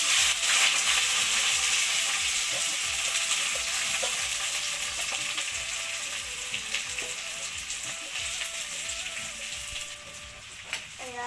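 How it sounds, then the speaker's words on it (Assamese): Whole spices and onion fry in hot oil, a loud, steady, crackling sizzle close up with occasional spatter pops, continuing without pause. "আৰু তেল গৰম হৈ গ'ল আৰু মই ইয়াতে দিম ইয়াত দেখিছে গোটা মছলা দি দিম আৰু মই ইয়াতে দিম পিঁয়াজ"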